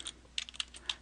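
Rapid light keystrokes on a computer keyboard, about a dozen soft clicks in an uneven rhythm within one second, close and quiet with no voices.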